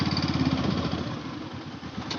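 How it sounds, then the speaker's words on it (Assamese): A JCB excavator cutting into hillsides, heard as a steady throbbing diesel engine rumble at middle distance, fairly loud and unbroken for a couple of seconds with no talk. "এইটো JCB কিমান ইয়াত কাম কৰি আছে পাহাৰবিলাক কাটি আছে"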